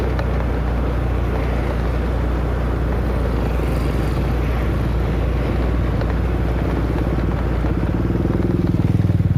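Motorcycles and cars pass on a road at night, a loud continuous drone of engines with a rumbling low end that builds toward the end as a vehicle draws near.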